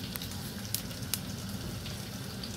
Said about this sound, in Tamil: எண்ணெய் சூடாகிட்டது, இப்போ கடுகு கொஞ்சம் போடுறேன்.